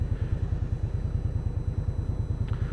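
Indian Scout Bobber motorcycle engine idling on a Seoul street in winter, a steady low rhythmic thrum with even pulses throughout, near and moderately loud, no voices.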